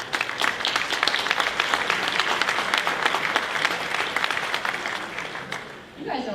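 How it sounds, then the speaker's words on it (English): Audience at a charity breakfast event applauds the sponsors, a loud, sustained burst of many hands clapping that runs steadily before tapering off near the end. "You guys are really good at applause."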